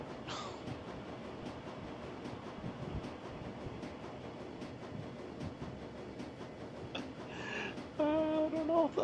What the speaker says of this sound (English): Train ramps up to speed, filling the air with a monotonous electric whir.